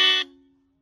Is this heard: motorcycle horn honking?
yes